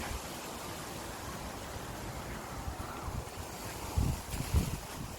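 Strong wind roars steadily across the microphone outdoors while waiting for a bus, a constant broadband rush with a couple of heavier gusts thumping near the end.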